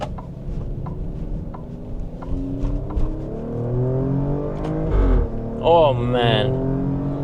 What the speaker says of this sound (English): you can hear me coming in this Stelvio Quadrifoglio